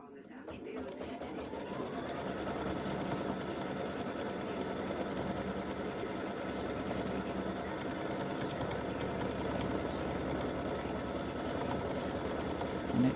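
Embroidery machine stitching a satin stitch outline, a steady close mechanical whirring hum with rapid rhythmic needle clatter running continuously for about thirteen seconds, while a person talks over it.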